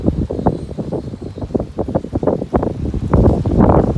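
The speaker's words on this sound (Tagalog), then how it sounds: "matindi ang in malakas ang hangin na masakit sa balat" Strong wind buffets the microphone in loud, uneven low rumbling gusts that keep going throughout.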